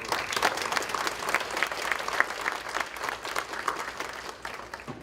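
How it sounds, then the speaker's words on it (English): An audience at an awards banquet gives a round of applause, with moderately loud, continuous clapping from many hands in a large room and no speech over it. "Just one more round of applause"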